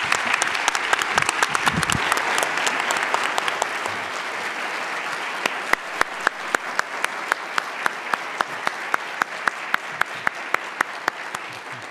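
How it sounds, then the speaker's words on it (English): An audience applauds the panelists at the close of an annual president's forum on U.S. political polarization, full applause that thins to scattered, sharp individual claps toward the end. "Could we give them one more round of applause, please?"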